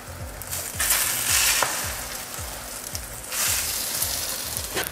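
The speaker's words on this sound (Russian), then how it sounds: "Обжариваем." Breakfast fritters frying in vegetable oil give a steady, close sizzle with bright crackling bursts, while a utensil taps and scrapes the pan in a regular rhythm underneath.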